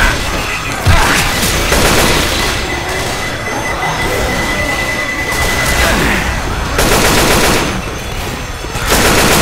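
A grenade blast and sustained automatic gunfire in Left 4 Dead 2: a sharp burst near the start gives way to continuous loud rattling fire and rumbling, with heavy bursts again toward the end.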